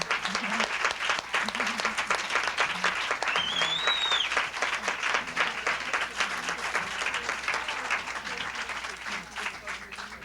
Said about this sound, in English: give a very special warm round of applause to Karen and her leadership